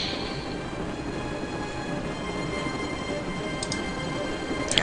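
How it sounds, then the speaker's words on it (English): A moving train in the Broken Sword adventure game rumbles steadily at a low, even level, with a few brief high clicks near the end. "Now that we're on top of the train"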